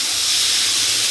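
Fried potatoes and pointed gourd tossed into hot spices give off a loud, steady hiss of sizzling steam, close and unbroken through the brief moment.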